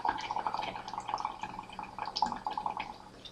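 Steady bubbling from breath blown through a straw into water in a lab beaker, a continuous gurgling trickle of small bursts that runs close and moderately loud throughout.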